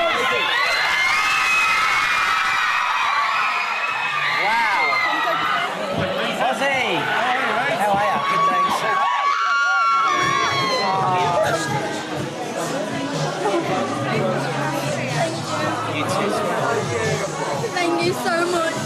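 A large shopping-centre crowd at Birmingham's Bull Ring cheers, whoops and shouts for Peter Andre, with excited children's voices and chatter in a dense, continuous roar that briefly dips before swelling again.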